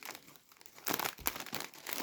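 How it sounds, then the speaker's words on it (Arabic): A plastic bag of Lulu cheese chips crinkles as it is torn open, with a few sharp crackling bursts close to the microphone over two seconds. "نفتح بقى رابع كيس"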